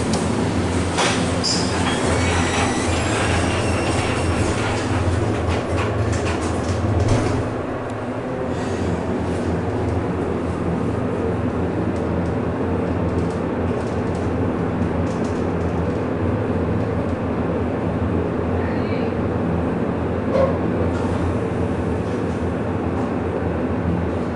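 An Excel hydraulic elevator at a Marshalls store on Houston Street in Brooklyn, New York, descends with a steady low mechanical rumble and hum that runs throughout. A brief dip in the middle breaks the drone.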